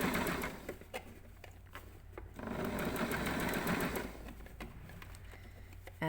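A sewing machine stitches a seam with a short reverse stitch, making a steady rapid whir in bursts with brief pauses, close and fairly quiet.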